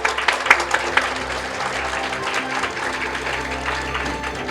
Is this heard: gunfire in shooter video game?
no